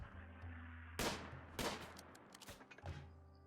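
Gunfire in the video game Rimworld, several sharp distant-sounding shots spaced irregularly over a low steady hum, with one louder crack and smaller pops trailing after.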